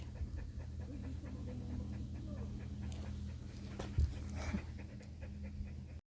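A dog pants steadily close by, with a faint whimper and a brief bump partway through, over low background hum.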